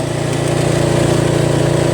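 A Toro Wheel Horse riding mower with a Briggs & Stratton 8 HP engine running at full throttle, giving a loud, steady, close engine drone with no voices over it.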